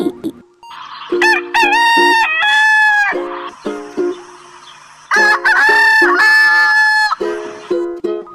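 A rooster crows loudly and close by, two long cock-a-doodle-doo calls with clucking bursts in between, no talking.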